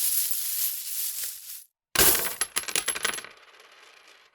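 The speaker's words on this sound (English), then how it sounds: "The jingling of coins preceded a scatter of Rio" A pouch of gold coins slams onto a wooden stage floor, then the coins jingle and scatter in a quick run of bright clinks that thin out and fade.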